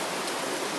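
Steady rain falling, a soft continuous hiss of drops with no breaks, heard alone at moderate level.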